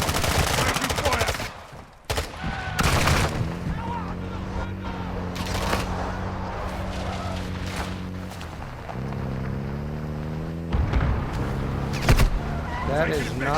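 Call of Duty gunfire crackles in sharp bursts over a steady engine drone, likely a helicopter during a hostage exfil, with several loud volleys near the start and end and voices talking throughout.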